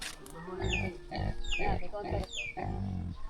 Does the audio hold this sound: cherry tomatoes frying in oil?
no